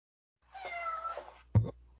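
A cat lets out a drawn-out tonal meow followed by a short, sharper chirping call, close by and clear against a quiet room.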